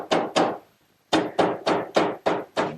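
Hammer blows drive a wooden joint together on a mirrored medicine cabinet: eight sharp, loud, close thwacks, two quick ones, a short pause, then six more in a steady rhythm.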